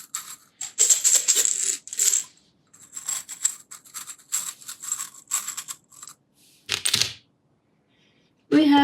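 Small hard charms clatter and rattle in repeated bursts of shuffling, close and fairly loud, with brief pauses between handfuls.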